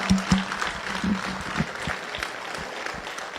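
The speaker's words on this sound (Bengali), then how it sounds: "তারা ওনাদেরকে করতালির মাধ্যমে আমরা অভিনন্দন জানাচ্ছি" Audience applause at a DXN gathering honoring guests, a few distinct claps at the start followed by a steady, moderate patter of clapping throughout, with faint background voices.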